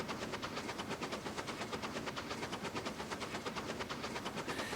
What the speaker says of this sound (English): This is the second train to Purgatory Flats.